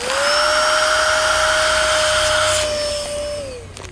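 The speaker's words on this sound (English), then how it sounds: "I don't, so I'm gonna use a vacuum." A household vacuum cleaner sucks the air out of a Ziploc bag of stored food with a loud, steady whine. The pitch rises slightly as it starts, holds, and then drops as the bag empties and the machine winds down.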